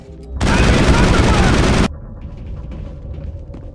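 A loud, dense blast of gunfire in the Mass Effect video game erupts abruptly and roars for about a second and a half, then cuts off to quieter background sounds.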